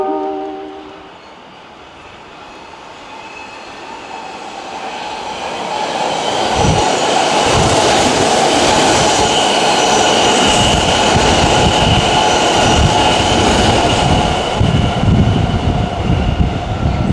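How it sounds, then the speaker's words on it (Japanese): A Kintetsu Nara Line train approaches and roars through Kawachi-Eiwa Station, growing from a quiet rumble to a loud sustained clatter of wheels, following a brief chime. "1番線を電車が通過いたします。"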